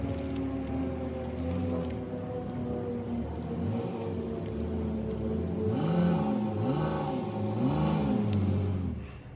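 A four-door sports car accelerates on the road, its engine note rising and falling in repeated swells over steady road and rain-like hiss, fairly loud and close with no talking.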